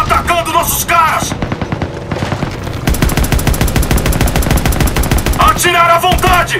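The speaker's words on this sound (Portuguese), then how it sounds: "Tiros de armas leves!" Rapid bursts of small arms gunfire in the video game Call of Duty: WWII, dense and loud, with a brief lull before sustained automatic fire resumes and continues steadily.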